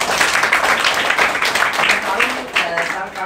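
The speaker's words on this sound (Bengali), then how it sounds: "আমি চাইবো তার জন্য একটা অন্তর থেকে হাততালি আপনি দিন।" A room audience claps in a dense, sustained patter of many hands, loud and close throughout.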